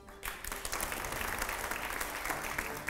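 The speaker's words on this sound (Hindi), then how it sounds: "अगला सवाल, जोरदार तालियां जरा," Studio audience on a Hindi news interview show bursts into loud, sustained applause, a dense wash of clapping starting abruptly and holding steady throughout.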